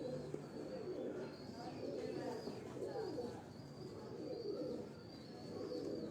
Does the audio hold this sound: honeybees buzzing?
no